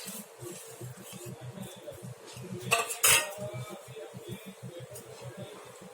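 A metal lid clanks onto a cooking pot of simmering pepper-seasoned broth, one brief bright clatter midway through a steady low rhythmic bubbling.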